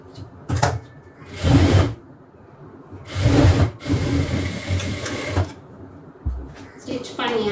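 A sewing machine stitches a seam on a pair of shorts in several short bursts of rapid, close-up whirring, separated by brief pauses.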